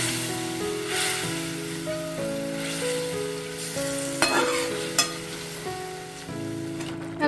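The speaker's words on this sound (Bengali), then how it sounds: "জলটা দেওয়ার পর ভালোভাবে মিশিয়ে নিচ্ছি" Vegetarian dalia khichdi is stirred in the pot after hot water goes in, giving a steady bubbling sizzle with occasional sharp scrapes and knocks of the spoon. Soft tonal music plays underneath throughout.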